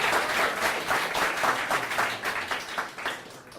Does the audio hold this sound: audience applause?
yes